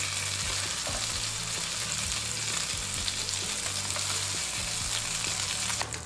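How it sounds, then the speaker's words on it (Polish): Leek sizzles and fries steadily in butter in a pan, a dense close crackle running the whole time with a few low knocks and bumps underneath. "Teraz dodaję jeszcze troszeczkę masła i pokroju por. I podsmażam."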